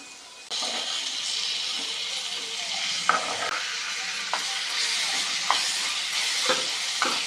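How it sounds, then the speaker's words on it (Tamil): Hot oil sizzles loudly as chopped tomatoes drop into the pan, followed by a continuous frying hiss with occasional scraping stirs. "நறுக்கி வச்சு தக்காளி சேர்த்திக்கலாங்க."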